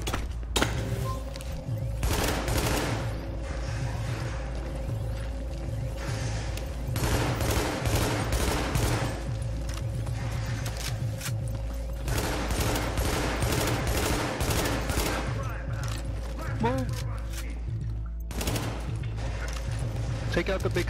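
Dense gunfire from The Division during a Challenging-difficulty fight at the Lexington Event Center, with repeated shots and bursts over a steady low game soundtrack, talk heard under the shooting throughout.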